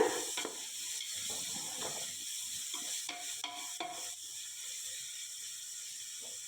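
Sliced onions frying in a pan for chicken biryani, a quiet steady sizzle with a few soft scrapes and clicks of stirring, no talk.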